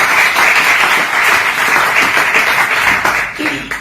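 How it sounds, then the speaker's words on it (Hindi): Loud, sustained audience applause fills the room at a talk on sleep and magnetic mattresses, a dense steady wash of many hands clapping close by that runs throughout and thins slightly at the end. "सर के लिए जोरदार तालियां"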